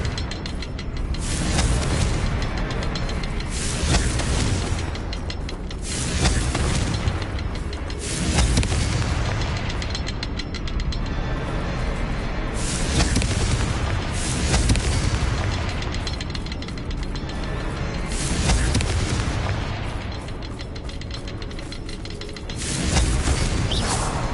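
Confringo fire-spell explosions in the Hogwarts Legacy video game on PS4, a series of loud booming blasts recurring every few seconds, each swelling and fading back into a rumbling game soundscape.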